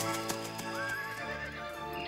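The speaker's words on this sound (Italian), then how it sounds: "Questo cavallo corre come un fulmine." A horse neighs and whinnies loudly, with faint hoof clip-clops beneath, in a short burst.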